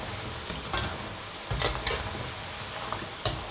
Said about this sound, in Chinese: 一定要保持中火慢炸，这样炸出的颜色金黄又漂亮